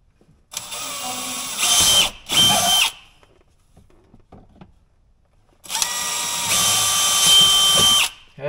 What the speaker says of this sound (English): take your 1/4-inch drill bit.